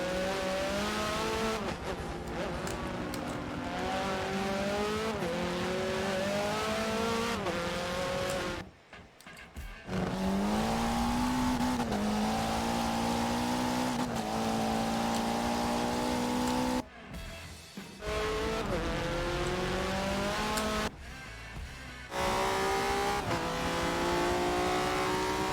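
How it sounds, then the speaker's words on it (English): A racing car engine revs loudly and continuously, its pitch climbing and dropping through gear shifts, with a few brief gaps, in a racing game on the Nürburgring GP circuit. "Retro Boy's car sounds as mad as he is"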